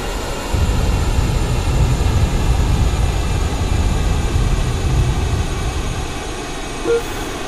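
A Me 262 A-1a jet in a flight game comes in to land on a runway with its engines throttled back to idle. A steady, loud roar and hiss runs through the whole clip and eases slightly near the end, with no voices.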